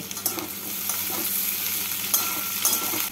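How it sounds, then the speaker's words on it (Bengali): Potato pieces fry with onions in hot oil in a pan, a steady soft sizzle broken by the scrape and clatter of a spatula stirring them, close by with no talking. "আলুগুলোকে পেঁয়াজের সাথে হালকা করে ভেজে নেব।"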